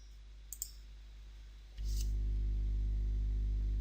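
Two quick, faint clicks of a computer mouse pressing an OK button, followed by a steady low hum that starts partway through and continues to the end.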